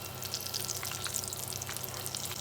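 Potato balls fry and brown in a pan of hot oil, giving a steady, close sizzle with fine crackling throughout and no talking.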